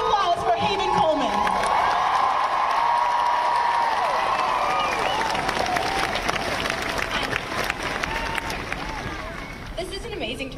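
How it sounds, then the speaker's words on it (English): A large outdoor crowd claps and cheers for a young climate activist at a rally, with loud, sustained applause, whoops and shouts filling the whole stretch at a steady level. "Give it a big round of applause for Haven Coleman."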